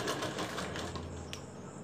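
A sewing machine runs steadily while stitching along the top of a strip for a blouse with a matka-style neck, a continuous close mechanical whir with no talk.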